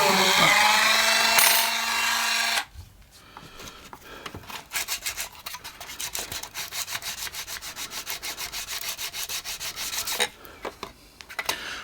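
A small drill bores through the metal side-frames of a model 2-6-0 locomotive tender, a close, steady whirring grind after a brief higher-pitched burst at the start, with no talk.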